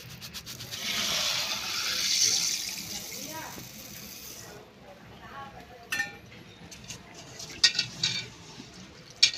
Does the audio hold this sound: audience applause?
no